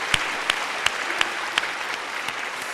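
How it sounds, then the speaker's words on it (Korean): A church congregation claps together in steady applause, a dense even patter of many hands with a few sharper claps standing out, fairly close and with no talking over it. "하나님께 영광의 박수 올려드리도록 하겠습니다"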